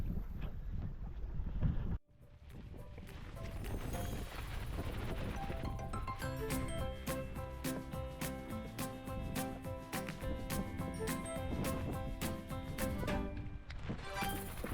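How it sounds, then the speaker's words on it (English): Strong wind buffeting the microphone on a boat trip on Loch Veyatie in the wilderness, a loud continuous roar with a brief cutoff near the start and rhythmic knocking of the hull or gear, without talking. "The wind was slowly building and building, as forecast."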